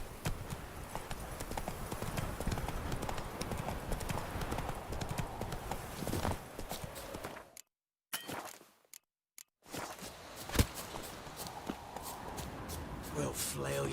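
Roach the horse clip-clops steadily at close range in The Witcher 3, with rhythmic hooves under game ambience and voices, briefly cut by gaps of silence before the trotting resumes.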